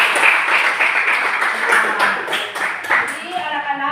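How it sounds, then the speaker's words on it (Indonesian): A school class claps for the group discussion, a brief burst of close hand claps with a few distinct strikes, fading as a voice begins speaking at the end. "Sekali lagi kita tepuk tangan untuk semuanya."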